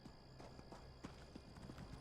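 Horse hooves in The Elder Scrolls Online game, a steady rhythmic clip-clop of a ridden mount at a trot, faint and even, with no voices.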